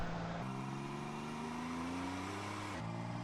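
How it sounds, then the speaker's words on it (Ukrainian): In the video game UA Online, a Mazda car's engine hums steadily and fairly quietly. Its pitch rises slowly as it revs, then drops near the end, with no talking over it. "мазда непогано так гудує"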